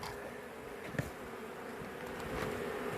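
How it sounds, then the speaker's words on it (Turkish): A dense, steady buzzing of many bees swarming close around a wild nest during honey harvesting, with a brief knock near the start. "Arılar yavaş yavaş bize saldırmaya da başladılar."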